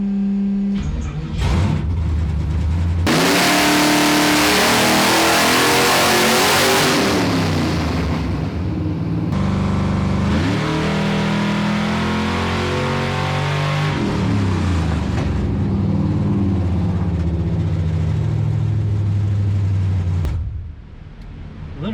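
A Whipple-supercharged G Body engine with Holley Terminator X tuning revs hard on a dyno, climbing in a loud sustained pull, easing off, then building through another long rising run before cutting back.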